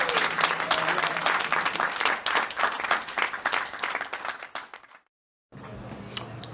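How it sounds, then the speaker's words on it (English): An audience applauds an improv comedy team with dense, sustained clapping that fades out, breaks into silence, then resumes more faintly. "how about a round of applause for our improv comedy team?"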